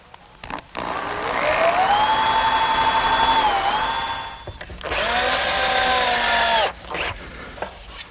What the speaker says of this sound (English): what I'll do is pre-drill and then attach the leg with drywall screws